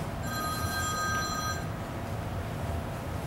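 A telephone rings in a classroom during a maths lesson: a bright, tonal ring lasting over a second, heard fairly clearly above a steady wash of room noise that continues after the ring stops.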